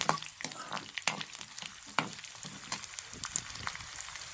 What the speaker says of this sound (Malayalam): ഇതിട്ട് നല്ലോണം ഇളക്കാം. കരിഞ്ഞു പോരുന്നു.